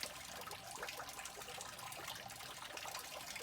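Running water flows in a steady, faint trickle with no break, heard outdoors in Japan at a clean cemetery-like site.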